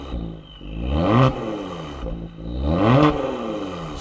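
A Genesis G70 with its exhaust valves closed is revved twice in slow, muffled swells, each climbing and falling back to a low idle, heard close with no speech.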